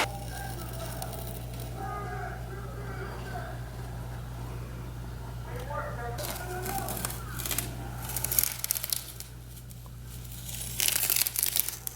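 Painter's tape, cut along the edge with an X-Acto knife, peels off black-painted kitchen cabinets in crackly, tearing bursts during the second half, set over a steady low hum.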